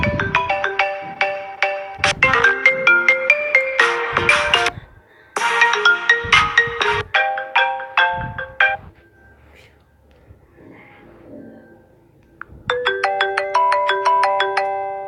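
An iPhone-style ringtone sounds from a phone, loud and melodic in repeated bursts that cut off and restart, with quiet gaps between them.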